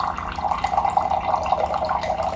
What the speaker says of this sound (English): It's just fresh, pure water right from the machine in your kitchen.